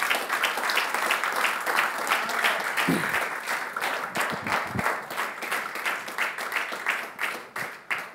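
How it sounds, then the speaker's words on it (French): Congregation at a French-language church sermon bursts into sustained, dense applause and cheering, loud and continuous from start to finish with a steady roar of many hands clapping. "Est-ce que quelqu'un peut acclamer d'abord le roi des rois?"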